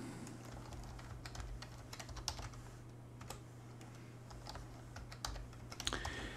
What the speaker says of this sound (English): you'll put in your super secret password